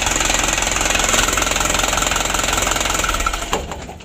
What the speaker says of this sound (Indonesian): Ini mesinnya sudah ngobos sangat parah.